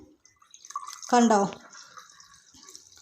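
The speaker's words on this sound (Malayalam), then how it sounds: "അപ്പോൾ നിങ്ങൾക്ക് കാണിച്ച് തരാൻ വേണ്ടിയിട്ട് ഞാൻ ഗ്ലാസ്സിലേക്കൊന്ന് ഒഴിക്കുകയാണ്" Lime juice poured from a container into a glass, a short liquid splash lasting under half a second at moderate volume, with a voice speaking briefly around it.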